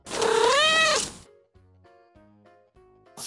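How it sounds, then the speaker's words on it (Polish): A lynx gives one loud, drawn-out, rising-and-falling meow up close, followed by soft, faint tonal notes in the background. "Ryś."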